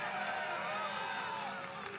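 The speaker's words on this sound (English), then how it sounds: "Well, don't clap too hard." A large crowd at a campaign rally in North Carolina claps and cheers in a steady, dense roar at a moderate distance.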